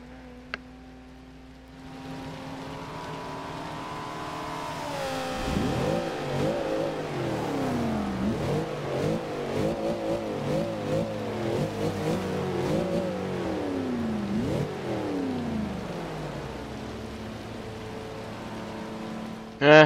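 A tuned 2012 Cadillac Escalade SUV with Lingenfelter power upgrades in Forza Horizon 2 idles quietly, then its engine climbs hard through several rising revs and gear changes, staying loud and close without any talk.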